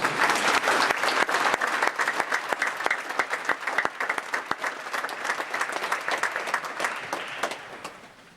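An audience at a memorial ceremony claps loudly and steadily for several seconds, with the applause gradually fading out at the end, with no voices over it.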